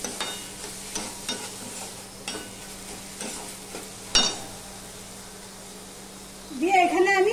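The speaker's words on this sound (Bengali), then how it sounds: "চিনিটা দিয়ে আমি আবার একটু মিশিয়ে নেব।" Sugar being stirred into ash gourd curry as it fries in a pan, with scattered scraping strokes over a steady low sizzle and a short burst of talk near the end.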